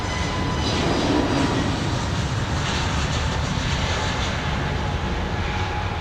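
Steady, loud aircraft engine roar at London Heathrow Airport, a continuous broadband rumble that holds evenly throughout with no talk over it.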